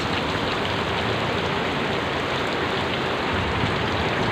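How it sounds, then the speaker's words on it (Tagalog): Heavy overnight rain pouring down in Paco, Manila, during flooding, a dense and constant roar of rain hitting surfaces, loud and unbroken throughout with no voices. "Sobrang magdamag ang ulan"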